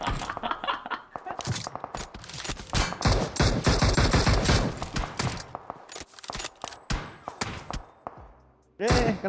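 Shotgun blasts and rapid gunfire in a video game come as a dense run of sharp, loud cracks and thumps. A player's voice talks over the shooting, which eases off toward the end.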